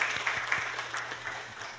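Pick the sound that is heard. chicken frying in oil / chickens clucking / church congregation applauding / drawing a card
church congregation applauding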